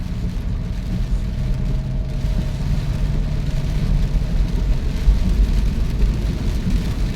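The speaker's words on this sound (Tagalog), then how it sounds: "sumihina ang ulan pero madalas malakas" Heavy rain from Typhoon Carina drums steadily on a moving vehicle, a dense, continuous wash over the low hum of the engine and road noise, with no talk.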